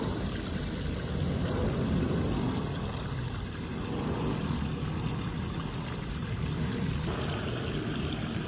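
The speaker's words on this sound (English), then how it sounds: "Emptying the kiddie pool" Water gushing steadily out of an emptied kiddie pool, a continuous broadband rush and trickle that stays even and fairly loud throughout with no voices.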